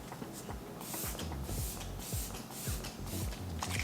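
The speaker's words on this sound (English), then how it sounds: "so I'm gonna spray my face" Setting spray misted onto a face in a makeup routine, a run of short soft hissing spritzes in quick succession, close to the microphone, with no talking.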